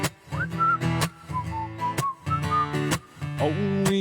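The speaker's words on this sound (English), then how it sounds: "Just purse your lips and whistle, that's the thing." A person whistles a lilting, bouncing tune over a steady rhythmic instrumental backing, with clear melodic phrases rising and falling close to the listener.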